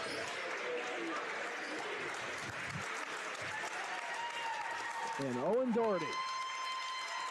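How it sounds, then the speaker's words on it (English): Standing crowd applauding in a gym during a high school basketball game at the Spencer Sports Center, a steady wash of clapping and cheers with an announcer talking over it and a sneaker squeak near the end. "leaves to the applause of a standing crowd here at the Spencer Sports Center"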